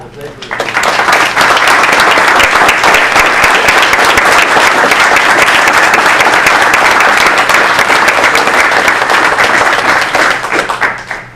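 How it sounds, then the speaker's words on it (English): A large audience at a community power meeting applauds committee members standing up, a loud, sustained wash of dense clapping that swells in and holds steady for several seconds before fading out. "let's give them a round of applause"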